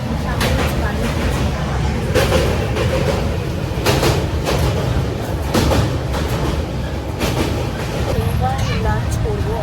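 A sleeper class train crosses Bally Bridge with a steady, loud rumble and rattling clatter of carriages that continues throughout, heard from inside the coach, with people talking over it.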